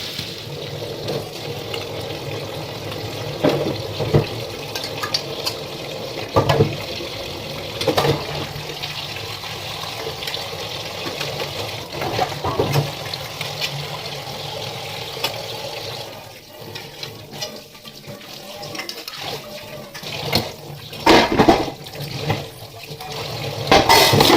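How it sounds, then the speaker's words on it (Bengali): Tap water runs steadily while dishes are washed at a home sink, with scattered knocks and clatter of utensils through the flow and a rougher, splashier stretch near the end; no voices. "ওরে জল এসছে বাসন কটা ধুয়ে নি চলো"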